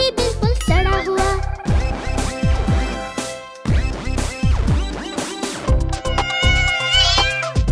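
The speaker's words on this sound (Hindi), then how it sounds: "बिल्ली मौसी कहो कहाँ से आई हो?" A cat meows repeatedly and loudly up close, a rapid run of drawn-out, pitch-bending cries with short gaps between them.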